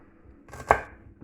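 A knife chopping through carrot tops on a board gives one crisp, sharp chop, close and clear, with faint handling noise before and after and no talk.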